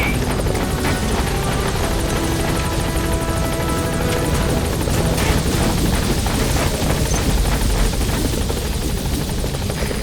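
A support helicopter in Metal Gear Solid V arrives at a landing zone, its rotor thrum and engine roar loud and steady, filling the scene without a break.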